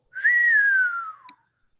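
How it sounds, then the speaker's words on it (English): A person whistles a single short note that rises slightly and then glides downward, clear and close, lasting about a second with no other sound around it. "let out a small whistle"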